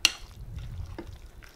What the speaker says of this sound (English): we're gonna go ahead and stir this all together